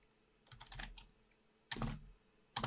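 Keys clatter on a computer keyboard in short, quiet bursts of rapid strokes separated by pauses, close to the microphone, with no talking.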